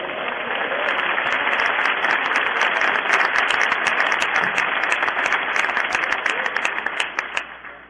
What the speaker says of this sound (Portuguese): Ao Senhor um aplauso, por favor.